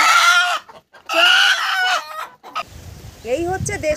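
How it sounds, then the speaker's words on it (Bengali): A small, angry native village chicken lets out loud, drawn-out alarm squawks close by, two long calls followed by a softer trailing cackle. "ডাকটা দেখেছেন?"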